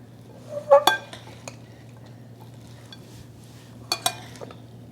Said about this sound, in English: now we're going to gently stir this